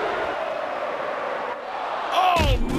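Crowd cheering in the wrestling video game WWE Mayhem, a steady, loud arena roar, followed near the end by a sharp slam and a brief burst of bright game effects.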